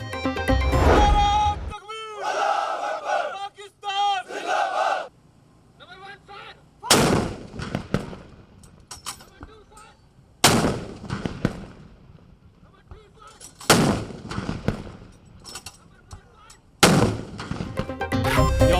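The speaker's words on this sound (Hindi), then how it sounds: "फौज के चाको चौबंद दस्ते ने अपने रवायती अंदाज में 21 तोपों की सलामी दी।" Ceremonial 21-gun artillery salute by army troops on Pakistan Day, with heavy cannon booms fired one at a time at intervals of a few seconds, each loud blast rolling and echoing away before the next.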